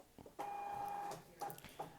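An RFID label printer runs its calibration to detect the RFID tag. A steady mechanical whir of under a second is followed by two shorter feed bursts, heard close and quiet with nothing else in the room.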